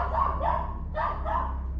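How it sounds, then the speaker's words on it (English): A dog barks in agitation outdoors at a campsite at night, two or three sharp, close barks in quick succession. "the 3rd grew agitated and began barking at something odd"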